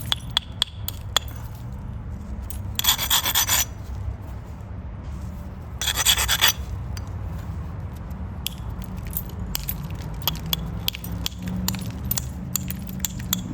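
Flint is trimmed along its edge with sharp clinking taps and two longer bursts of gritty scraping, close up and fairly loud, with no voices.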